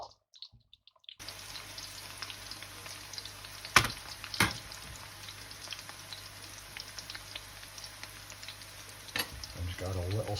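Onions frying and softening in a pan over lowered heat, with a little salt added, for a chicken curry base; a continuous steady sizzle with a few brief clacks of stirring, alone and close.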